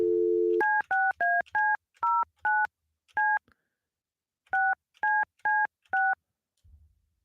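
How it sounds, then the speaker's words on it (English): Telephone keypad tones beep in a quick series of about a dozen short dual-tone presses after a brief steady tone, loud and clear with no voices, ending in a faint low rumble. "Let's try it again. Maybe I dialed wrong."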